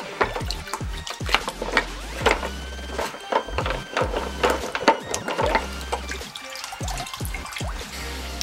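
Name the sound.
water rinsing engine part after Purple Power cleaner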